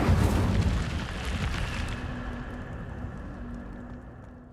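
A fiery Incendio spell blast from the video game Hogwarts Legacy bursts out as a loud, rumbling whoosh that fades slowly over several seconds.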